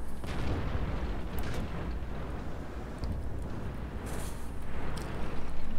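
Tank cannons fire shells in World of Tanks, with a WZ-131 light tank in the battle: heavy booming blasts and rumbling explosions over a constant loud battle din, with a few sharper cracks scattered throughout.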